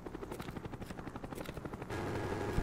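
Helicopter killstreak in Call of Duty Black Ops: steady rotor thumping with rapid gunfire bursts, then a louder, denser rotor roar in the final second, with no talking.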